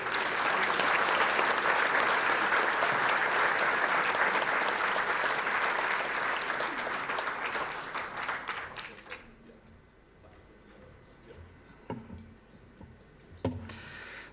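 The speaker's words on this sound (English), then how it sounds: "So a round of applause, please," Award dinner audience gives a long, loud round of applause, dense clapping that fades after several seconds into scattered claps and light room noise, with faint talk beneath.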